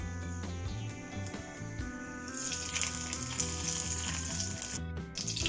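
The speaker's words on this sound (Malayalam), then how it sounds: "അതിലേക്ക് കുറച്ച് കരിവേപ്പില ഇട്ട് കൊടുക്കാം" Curry leaves dropped into hot coconut oil and ghee in a kadai, a steady sizzle that swells into louder, brighter crackling frying partway through.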